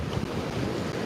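Sea waves surge and wash onto a beach in a steady, close roar, blended with gusty wind buffeting the microphone.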